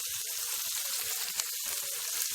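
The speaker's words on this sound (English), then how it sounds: "So I'm just saute up in the season before actually adding the sausages for a minute" Seasoning sautés in a pan ahead of sausages being added, a soft, steady sizzle with faint stirring scrapes, fairly quiet and close.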